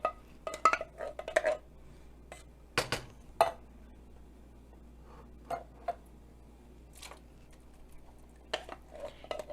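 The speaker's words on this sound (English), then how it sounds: "I'm going to add 2 cans of beans to each one." Canned beans go into chili pots in a home kitchen, heard as a series of sharp metallic clinks and scrapes of can and spoon against pot, irregular and fairly close, with quiet gaps between.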